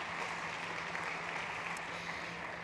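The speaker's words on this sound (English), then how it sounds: "Big applause, please." Steady, even applause from an audience at a startup competition on stage at South Summit 2021, a soft continuous wash of many clapping hands without pauses, heard from a distance.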